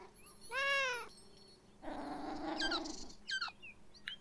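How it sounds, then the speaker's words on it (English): A single drawn-out cat meow from the video game Beyond Eyes, clear and fairly close, followed by softer rustling and brief high chirps. "The cat just kind of popped into existence."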